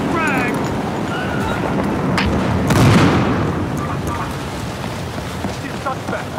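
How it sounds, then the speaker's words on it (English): A frag grenade explodes in the police shooter Battlefield Hardline, a loud booming blast rising midway through dense gunfire and combat noise, with voices shouting over it. "Throwing frag!"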